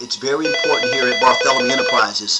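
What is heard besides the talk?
phone ringtone ringing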